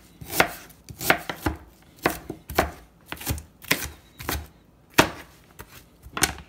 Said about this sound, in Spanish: vamos a cortar nuestra cebolla también en pedacitos chiquitos